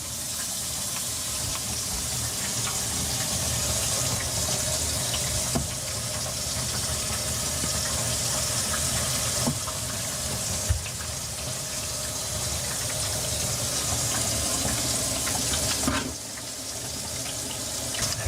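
Water runs steadily from a newly installed pull-down kitchen faucet into the sink, a loud continuous close rush with slight shifts in flow and no talk.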